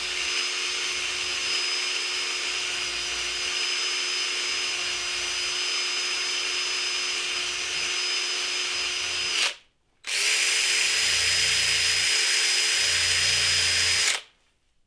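Electric drill boring holes through a wooden snowshoe frame, a loud close whine running steadily for about nine seconds, stopping briefly, then spinning up again for another four seconds before cutting off.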